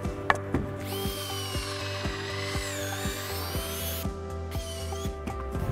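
A power drill drives pocket-hole screws into a wooden shelf board for a rustic farmhouse bench, whining and rising in bursts with rhythmic clicking, close and loud, with no talk.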